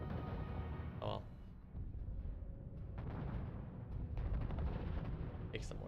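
Gunfire aimed at IS-2 tanks in the RUSE strategy game, heard as a few dull booming shots over a constant rumbling battle bed, with sharper cracks near the start and end.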